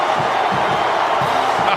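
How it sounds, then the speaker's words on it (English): A huge college football stadium crowd at Oklahoma versus Texas roars continuously as the Oklahoma team takes the field, a dense, loud wash of cheering with rhythmic thumps beneath it. "Listen to the crowd."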